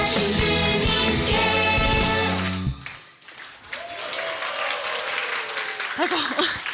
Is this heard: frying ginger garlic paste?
no